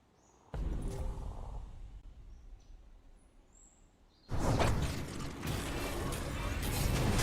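A 3D printer at work gives a mechanical whirring and ratcheting clatter. It runs at moderate level at first, then turns much louder and denser partway through and continues steadily, with no voices.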